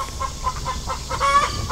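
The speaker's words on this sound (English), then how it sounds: "Ooh, chickens are being loud." Backyard chickens in a garden cluck in short, irregular bursts at moderate distance, with steady outdoor background noise beneath them.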